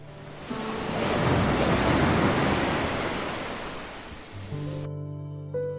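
Waves of the Red Sea surge in a broad, steady roar of rushing water that swells and slowly fades, then gives way to a soft musical tone at the end.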